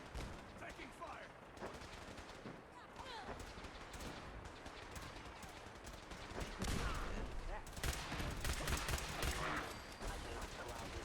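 Dense gunfire in the Fallout 4 video game, with rapid overlapping shots and bursts rattling continuously throughout, with game voices shouting over the shooting.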